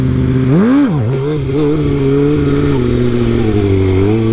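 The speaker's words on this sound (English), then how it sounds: "I will show you what it sounds like when the bike goes quiet" A motorcycle engine runs loud and close at low revs, dipping briefly in pitch near the start before settling into a steady, smooth hum at the balance point.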